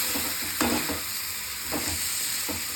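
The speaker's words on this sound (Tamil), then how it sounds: "இது போட்டது தேங்காயும் அதோட கொஞ்சம் வதக்கிடுவோம்" Grated coconut with fennel and poppy seeds sautéing in a pan for a white kurma, a continuous close sizzle broken by a few scraping stirs of a spoon.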